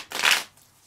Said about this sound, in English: Shuffle your hand and discard pile into your deck.